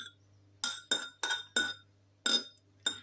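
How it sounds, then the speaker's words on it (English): A spoon stirs a big spoonful of ginger in a glass, striking the sides in six crisp, ringing clinks at uneven intervals, close and fairly quiet over a faint low hum, with no talking. "Let's give it a bit of a stir."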